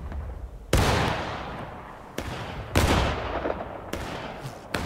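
Musket volleys crack out in War of Rights, a Civil War battle game, four heavy booming discharges each trailing off into a long rolling echo, close and loud.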